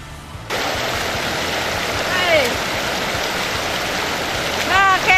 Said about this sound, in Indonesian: ternyata kita dapat menemukan air terjun yang lain nih guys